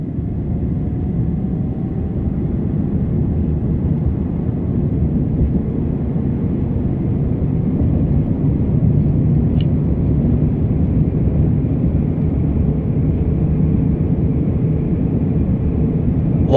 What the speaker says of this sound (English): Very confidently getting out onto the road. You can see we're accelerating nicely.